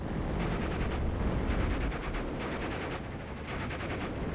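Pak 43 anti-tank gun firing in a World War II strategy video game, a dense, continuous roar of heavy gunfire and rumbling blasts that stays loud and constant throughout, with no talk.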